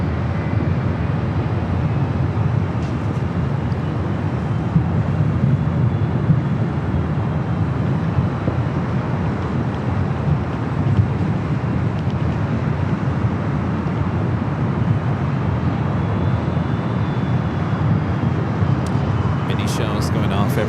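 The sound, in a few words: Airbus A350 airliner from Singapore landing at LAX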